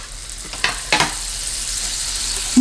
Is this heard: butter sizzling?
yes